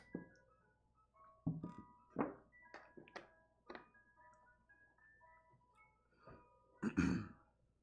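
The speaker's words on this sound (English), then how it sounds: "There's my ice cream truck." An ice cream truck arriving plays its tinkling jingle melody, with irregular nearby thumps and a few coughs or throat clears breaking in over it.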